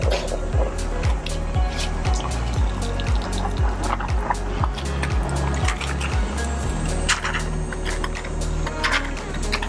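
Tire scrub at a car wash spraying water, with a steady hiss of liquid spray over a rhythmic, pulsing low thump that fades out toward the end, heard close with no voices.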